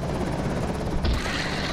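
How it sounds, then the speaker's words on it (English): A helicopter in the Project Zomboid video game follows the player, giving a steady, loud rotor drone that grows brighter and harsher partway through, with no talking. "the helicopter meta event is a helicopter spots you and starts following you, and it draws all the zombies in the nearby area"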